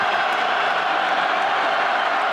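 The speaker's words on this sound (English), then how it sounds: "Crowd comes alive." Stadium crowd at an Air Force at Utah State college football game in 2018 roars steadily as the team goes for it on fourth and short, a broad dense wash of cheering with no clear breaks.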